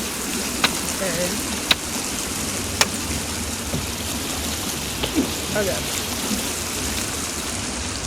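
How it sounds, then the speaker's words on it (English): Waterfall in the video game The Forest, a loud, constant rushing roar of falling water filling the scene, with a few sharp clicks and a brief spoken word from a player over it. "Sorry if the waterfall's a bit loud for you guys."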